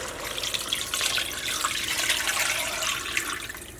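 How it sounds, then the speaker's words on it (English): Water pours steadily into a pot holding chicken for soup, a continuous splashing, bubbling rush close by with no talking. "Now I'm going to add the water."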